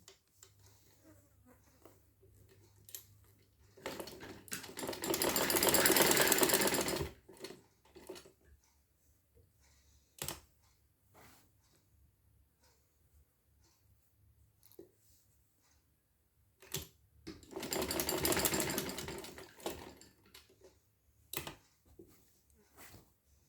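Sewing machine stitching the side slit of a kurti, two sustained buzzing runs of a couple of seconds each, separated by long quiet stretches with scattered clicks and handling taps.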